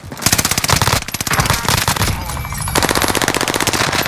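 Rapid bursts of automatic gunfire in a video game battle rattle loudly and continuously, with short pauses between volleys and sharp repeated shots throughout.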